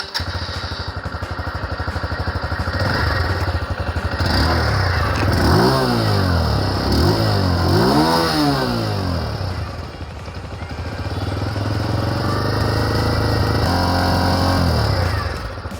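TVS Star Sport commuter motorcycle idling with a steady putter from the exhaust, then throttle blips give several rising-and-falling revs before it settles back to idle, close by with no speech.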